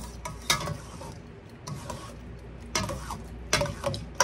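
Okra being gently stirred in a pot, with irregular scraping and knocking strokes of the spoon against the metal rising in short bursts, close and fairly quiet, no speech.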